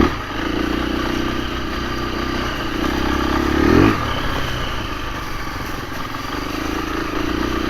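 A 2024 KTM 350 EXC-F dirt bike fitted with a 13-tooth sprocket cruises in second gear on single track, its engine droning loud and close before a brief rev swell, then settling into a steady lope.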